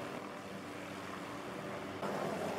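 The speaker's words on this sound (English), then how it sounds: "Hey, you guys like my helicopter?" Rotor and engine drone of a helicopter in the video game DayZ, a steady, continuous whir that holds level throughout and swells slightly louder near the end, with no talking.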